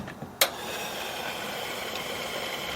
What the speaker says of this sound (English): This is the sound of your engine getting clean.